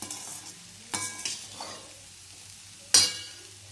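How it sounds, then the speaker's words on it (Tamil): Vegetable fried rice tossed with spice powder in a pan, with a soft steady sizzle under a few sharp scrapes and clinks of a spoon stirring, one louder clatter near the end; no talking. "நல்லா கிளறி விட்டுக்கோங்க"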